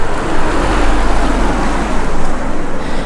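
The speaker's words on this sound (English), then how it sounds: "That was quite a loud car." A car passes close by, a steady roar of engine and tyre noise over a windy, rumbling outdoor background.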